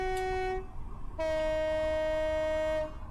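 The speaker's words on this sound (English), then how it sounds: "Over level crossing, just need to sound the horn." Two-tone horn of a train in the Train Simulator Classic game, sounded at a level crossing: a short blast, a pause, then a longer steady blast over a continuous rumbling engine drone.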